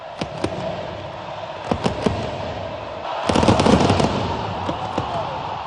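Sharp fireworks bangs and crackling bursts pop at irregular intervals over the roar of 83,000 fans in a Buenos Aires football stadium, with a denser cluster of rapid explosions in the middle.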